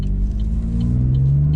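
Red Holden Commodore VF SV6 Series 1 Storm with a manual gearbox, heard from inside while driving: a loud, steady low engine rumble that rises slightly in pitch toward the end, with no talking.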